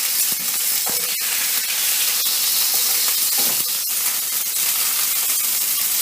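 Food frying in a pan gives a loud, continuous sizzle and hiss with occasional soft scrapes from a wooden spatula, close and unbroken throughout.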